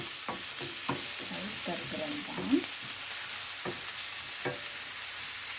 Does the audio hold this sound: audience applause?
no